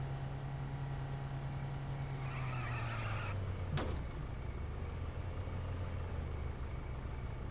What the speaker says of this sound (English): I hear another car somewhere